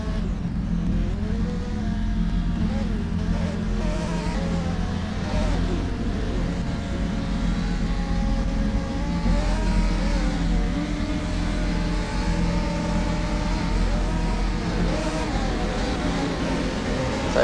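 Race cars starting at Donington in rFactor 2 for a Radical sprint series round, a continuous loud engine drone with rising revs from a pack of cars, steady throughout.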